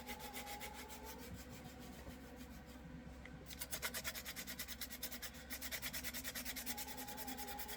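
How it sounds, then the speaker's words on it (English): Sandpaper rubs across a Papermate pen body in steady back-and-forth strokes, a close, soft scratchy rasp that pauses briefly midway and then resumes in even rhythm. "And then you'll want to sand your whole pen so your epoxy will stick and your paint will stick too."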